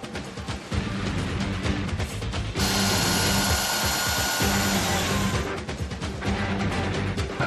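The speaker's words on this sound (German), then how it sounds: "Diese Flex kann mit einer einzigen Bohrung einen sauberen Zugang zum Kamin schaffen" An angle grinder (Flex) cuts an access opening into a chimney for a stove pipe during a fireplace installation, a loud continuous whine with a sustained higher-pitched cutting stretch midway, no talk.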